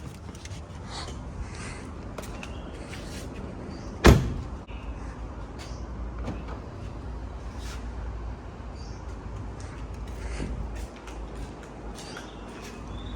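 The door of a 2020 Mercedes-Benz C200 shuts with one solid thump partway through, surrounded by a steady low rumble of background noise and a few faint clicks and shuffles, with no speech.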